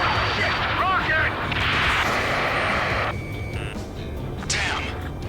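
Rocket explosions and gunfire in the combat flight game Ace Combat 7, a dense, loud barrage of booms and blasts with radio-style voices talking over the action throughout.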